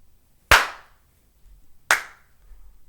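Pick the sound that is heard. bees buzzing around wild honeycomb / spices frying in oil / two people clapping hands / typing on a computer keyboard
two people clapping hands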